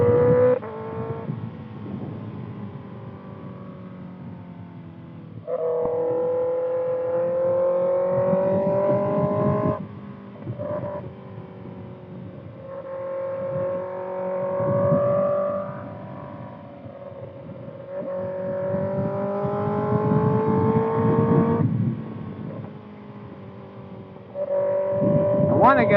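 A Kawasaki ZX6R motorcycle fitted with a Voodoo Racing slip-on exhaust drones steadily on the road, its engine pitch rising and falling with gear changes, heard muffled through helmet wind.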